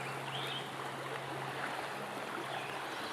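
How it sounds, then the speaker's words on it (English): A swollen river swollen by heavy rain rushes past in a steady, dense hiss of turbulent water, close and continuous, with a low hum underneath and no voices. "I've never seen the river like this violent."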